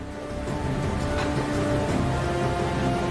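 Heavy monsoon rain pours steadily in Uttarkashi, Uttarakhand, a dense continuous hiss of downpour at even, loud level with no voices.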